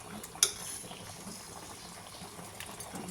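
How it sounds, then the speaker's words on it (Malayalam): Fish curry simmering in a non-stick pan, a faint steady bubbling hiss with a single small clink near the start, quiet and close. "തിളപ്പിച്ച് കറിയൊക്കെ ആയി"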